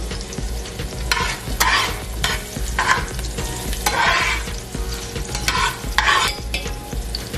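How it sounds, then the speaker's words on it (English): Cooked beans from a crock pot stirred in a hot frying pan for Mexican rice and beans, with loud, close sizzling and repeated scraping stir strokes throughout. "Grab the beans from the crock pot and transfer them over to the pan right here."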